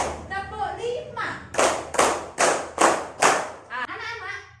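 An elementary classroom full of pupils claps in a counted rhythm. A voice speaks at the start, then five loud, evenly spaced group claps follow, and talking resumes afterward.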